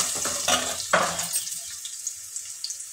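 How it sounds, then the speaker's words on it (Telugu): Peanuts and cut carrot hit a hot pan and sizzle loudly with stirring, then the frying settles into a quieter, fading crackle. "పల్లీలు కొద్దిగా వేగిన తర్వాత కట్ చేసి పెట్టుకున్న క్యారెట్"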